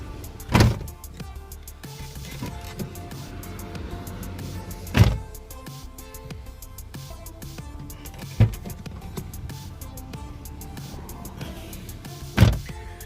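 A Toyota Corolla AE101's door is opened and closed with the inner handle, giving four sharp, close clunks spaced a few seconds apart over a quiet background.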